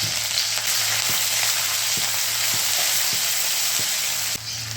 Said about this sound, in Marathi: आता याच्यामध्ये हे ठेचलेलं लसूण, जिरे आणि मिरची ते पण टाकून देते.